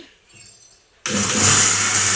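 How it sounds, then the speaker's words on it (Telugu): After a quiet second, a kitchen mixer grinder kicks on abruptly, grinding spice powder, and runs with a loud, steady whirring roar close by. "మిక్సీ ఆడేసుకుందాం దీన్ని"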